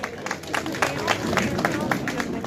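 An audience at a public darbar claps to welcome a Union Minister being honoured with a Dogra turban. The rapid, steady applause spreads through the crowd with faint murmuring beneath it.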